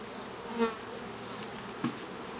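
Honey bees buzzing around an open hive during a queen rearing inspection, a soft continuous drone with a few louder passes of single bees near by.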